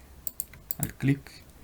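Computer keyboard keys click a few times in an irregular rhythm while a 3D model is built in Blender, with a voice speaking quietly over the keystrokes.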